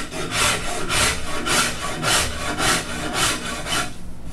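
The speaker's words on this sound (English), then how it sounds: "Wonderful rasp." A 200 mm number 11 rasp files a wooden guitar neck in steady back-and-forth strokes, each one a coarse rhythmic scrape, loud and close with no talking.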